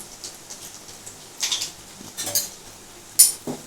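A metal spoon stirs small cardamom pods and cinnamon in a pan for a paneer dish, giving a few separate close scrapes and rattles over a quiet background, ending with one sharper clink; no one speaks.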